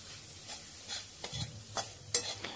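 Grated cauliflower stirred and mixed in a pan for a cauliflower crumble bhujia: quiet, irregular scraping strokes with faint sizzle underneath, a few sharper clinks of the spoon against the pan, no talk.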